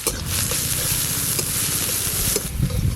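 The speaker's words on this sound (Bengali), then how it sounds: "প্রথমে আমি সাদা তেল দেব প্রথমে দেব আদা কুচি পেঁয়াজ কুচি কাঁচা লঙ্কা কুচি" Chopped ginger, onion and green chilli fry in white oil for a potato filling, sizzling loudly and continuously with a few stirring scrapes, close and without speech.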